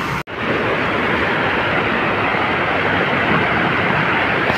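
Steady, loud rushing water from Kalingarayar Anaicut Falls on the Bhavani near Erode fills the scene, a continuous broadband roar, with a brief dropout near the start.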